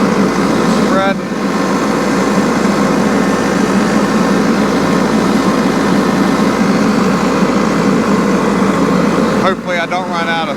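A tractor engine drones steadily and loudly close by while spreading a hay field, the rumble continuous throughout with brief shifts in tone near the start and end.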